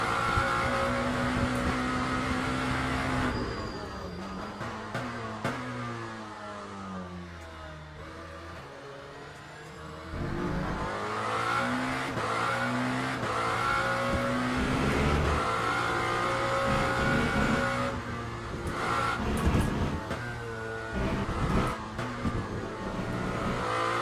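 Lamborghini SC63 LMDh race car engine at COTA in wet conditions in Le Mans Ultimate, a loud, close roar climbing and falling through upshifts and downshifts, easing off through a corner before accelerating hard again.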